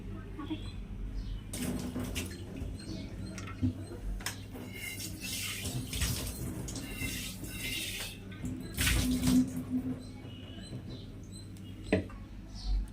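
Water splashes and trickles unevenly into a cooking pot as a vegetable curry for lunch is prepared, the pour close and moderately loud amid small kitchen clatter.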